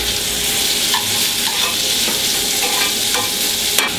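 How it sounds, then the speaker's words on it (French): Brussels sprouts fry in a pan with olive oil and butter, giving a steady, close sizzle that runs throughout, broken by a few soft clinks and scrapes as they are stirred and turned. "Chou de Bruxelles, dans la poêle."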